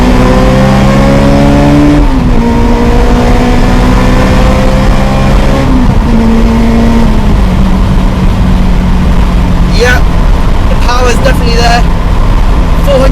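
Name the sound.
supercharged Spoon Sports Honda S2000 engine revving, downshifting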